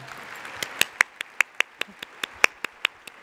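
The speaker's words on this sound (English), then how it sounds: "So can we give them a round of applause?" Clapping at a 2013 conference welcome session in a pavilion comes through as a thin series of about fourteen crisp, evenly spaced claps at a brisk pace over faint room noise.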